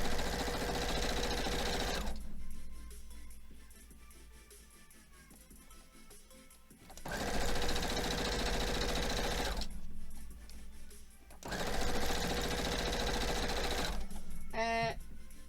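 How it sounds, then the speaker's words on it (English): A sewing machine stitches quilt pieces for a retro-gaming quilt block in loud, steady motor bursts, running about two seconds, then five, then three, separated by quieter pauses with faint room noise and a brief rattling near the end. "we're sewing all these pieces"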